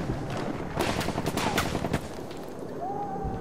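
Battlefield 1 gunfire rattles in sharp bursts of several close shots during a multiplayer match, with scattered distant rounds and faint game ambience between them.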